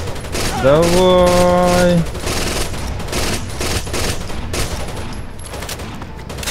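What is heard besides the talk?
mounted machine gun firing in video game Rainbow Six Vegas 2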